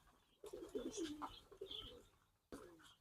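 Pigeons coo in short, soft, throaty phrases, repeated bursts from birds close by with brief pauses between calls and no talking.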